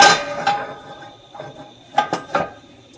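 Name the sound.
Finex cast iron skillet being flipped over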